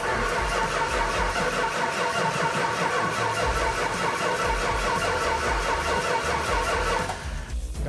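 A Dodge Challenger's engine cranks over and over in a fast rhythmic churn, trying to catch without settling into a clean idle, loud and close with no talk.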